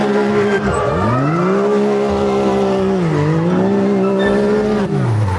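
A car drifts through a right-hand turn on a backyard gymkhana course, engine revving loudly with pitch sweeping up and down while tires squeal steadily throughout, close and continuous.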